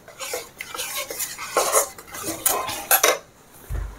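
A utensil stirs besan laddoo mixture in a metal pan with quick, close scraping and clanking strokes in uneven bursts, then settles into near silence at the end, with no voices.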